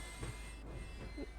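Train in a video game rolls along with a continuous low rumble, faint rhythmic clatter and a thin high whine, quiet and steady with no voices.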